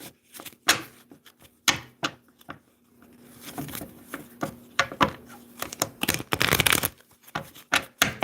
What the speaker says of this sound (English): I'm just shuffling, Shelley.